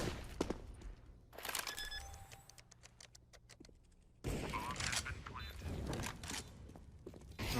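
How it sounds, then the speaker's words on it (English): Gunfire rings out in a Counter-Strike match on the Mirage map during a CS Summit 7 game between MIBR and FaZe, with rapid bursts of rifle shots, some clustered, plus footsteps and game clatter in a busy mix. "Great shots for Olaf"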